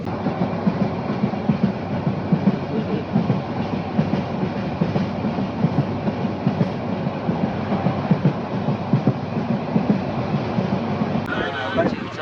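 A passenger train on the Cox's Bazar to Dhaka line runs steadily on its rails, a continuous loud rumble with rhythmic clatter, heard from inside the carriage with a brief rattle near the end.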